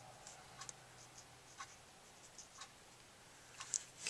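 Copic markers coloring white clothing on paper, soft faint scratchy strokes repeating at an uneven, close-up rhythm in a quiet room.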